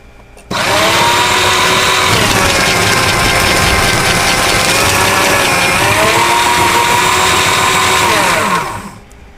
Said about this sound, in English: let's go ahead and shred some sheets